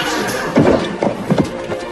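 A horse in a dubbed medieval battle film, with several loud bursts of whinnying and snorting close by, amid rustling movement.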